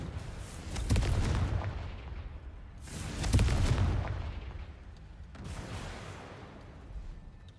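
Confringo fire spell blasts in Hogwarts Legacy, three loud booming bursts about every two and a half seconds, each trailing off into a rumbling decay, with no talking over them.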